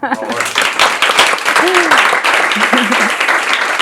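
An audience at a book presentation applauds, a full burst of clapping with voices speaking over it intermittently.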